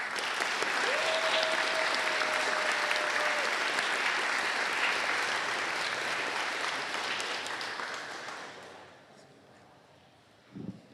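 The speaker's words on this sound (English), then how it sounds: "Let's get a huge round of applause for every single society" Sustained applause from a large crowd at a student union awards ceremony, loud and dense, gradually fading out toward the end, with a brief knock at the close.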